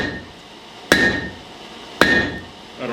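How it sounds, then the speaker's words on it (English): A fire poker drawn out on an anvil horn after heating in an induction forge, struck twice with a hammer: two loud, sharp, ringing metallic blows about a second apart, each ring fading before the next, with no talking. "I'm actually going to draw it on the anvil horn now"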